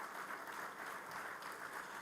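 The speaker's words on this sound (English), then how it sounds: "Can we please clap hands for him?" Faint, distant applause fills a large hall at an African football awards ceremony as a head of state is welcomed, an even wash of many hands clapping.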